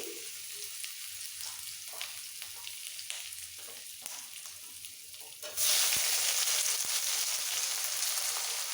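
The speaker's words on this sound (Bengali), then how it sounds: "মিক্স হয়ে গেলে দিয়ে দেবো পেঁয়াজ কুচি" Chopped onions hitting hot oil for a Bengali mutton curry: quiet stirring taps first, then a sudden loud burst of dense sizzling that continues steadily up close.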